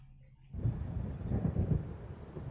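A deep rolling rumble of thunder from a magic storm in Alan Wake rises abruptly out of near silence and keeps churning, loud and broad, with wind-like roar.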